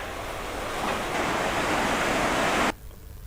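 The swollen Alaknanda river rushes in a loud, steady broadband roar of fast water that fills the scene, then cuts off abruptly near the end, leaving only quiet background.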